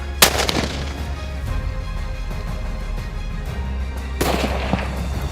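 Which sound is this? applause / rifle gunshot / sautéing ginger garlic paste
rifle gunshot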